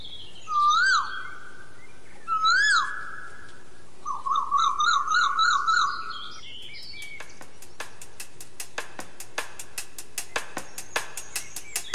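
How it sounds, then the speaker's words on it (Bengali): Cuckoo calling from dense forest in a Madagascar story: two clear, rising whistled calls, then a quick trilling run of notes, followed by a string of dry, evenly spaced clicks in a quiet setting. "বনের ঘন আড়াল থেকে কোনো কোকিলের মিষ্টি ডাক শোনা গেল।"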